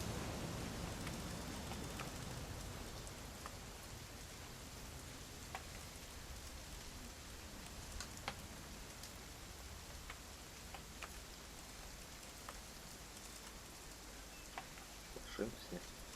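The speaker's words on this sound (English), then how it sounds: "It's gonna rain the whole weekend, isn't it?" Steady rain in the video game What Remains of Edith Finch hisses continuously at a soft, even level, with scattered faint clicks and drips throughout.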